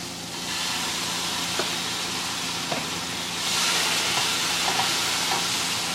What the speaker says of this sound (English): and then listen to the sizzle